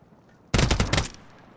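The SVA rifle fires in Warzone 3, one loud, rapid burst of several shots lasting about half a second after a quiet start, then silence.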